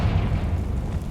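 The Confringo blasting spell in Hogwarts Legacy, a short muffled low boom rumbling for about a second, followed by a sharper burst right at the end.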